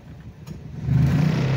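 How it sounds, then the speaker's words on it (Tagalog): A 2020 Toyota Vios engine with an unusually loud drone revs up, climbing from a low rumble into a louder, steady mid-pitched roar over a second and a half, close by. "Parang mawawasak yung makina."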